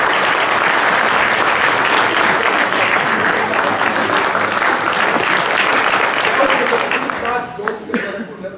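A standing audience at an evening event in Curtici applauds loudly and continuously, dense clapping that thins out near the end, with voices mixed in.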